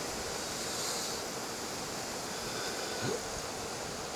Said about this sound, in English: just checking out the sky and feeling the wind kicking around.